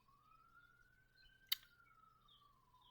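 An ambulance siren outside sounds faint and distant as a single slowly rising and falling wail, with a sharp click near the middle and no one speaking.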